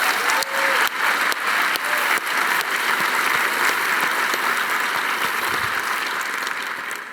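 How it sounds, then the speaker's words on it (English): An audience at an evening event with a comic artist applauds, a dense, steady round of clapping from a large crowd that holds strong throughout and tapers only slightly at the end. "Can we give them a round of applause,"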